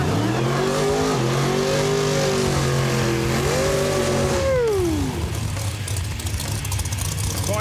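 A Volkswagen drag race car accelerating down the track, its engine loud and close, pitch climbing through gears with a shift dip before fading away; crowd noise and announcer chatter sit beneath.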